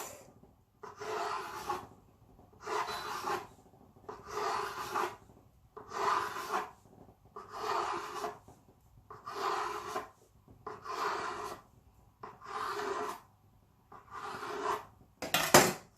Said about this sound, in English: So I'm going to cut this again into medium-sized strips.